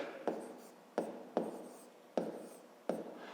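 Pen writing numbers on paper during a fifth-grade math exercise, five sharp taps each trailing into a short scratchy stroke, close and quiet with no talk.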